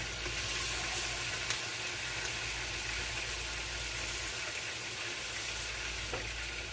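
Garlic and onion rice seasoned with sofrito sizzles and fries steadily in a pan as water is added, a dense, even crackle and hiss close by throughout, with no talking.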